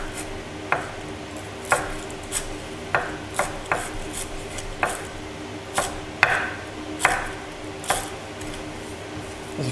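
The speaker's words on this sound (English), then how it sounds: "chop it up." Fresh dill, stalks and all, being chopped with a knife for a Greek lamb fricassee: about a dozen sharp, separate knife strikes on a board at an uneven pace, close and fairly clear over a quiet background with no talking.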